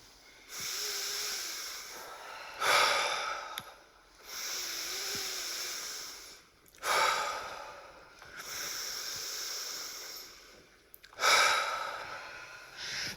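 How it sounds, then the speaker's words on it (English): Slow, rhythmic deep breathing during a yoga breathwork exercise, with long airy exhales alternating with sharper, quicker inhales, heard close and alone in a quiet room, repeating roughly every four seconds. "We're doing these each time for about 30 breaths"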